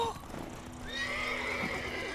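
A horse in The Witcher 3: Wild Hunt gives a single loud, drawn-out whinny, rising and then holding, close by, with a few hoof clops under it.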